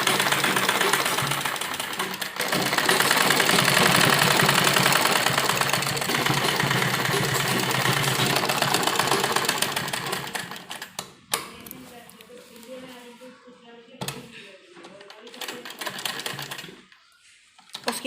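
A sewing machine stitches lace along the bottom of a pleated frock in a long, loud, continuous run that stops about two-thirds through, followed by someone talking with occasional handling noises.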